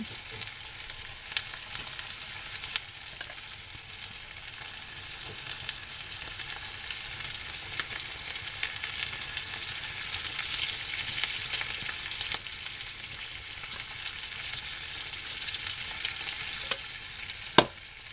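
Canned chicken cacciatore in a pan with sauce from a jar, giving a steady, dense hissing sizzle that continues evenly for a long stretch, close and fairly loud, ending with a single sharp knock.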